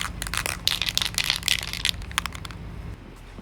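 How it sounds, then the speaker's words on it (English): A spray can of primer is shaken briskly, its mixing ball rattling in quick irregular clicks for a few seconds before stopping. "So we got to shake this primer up"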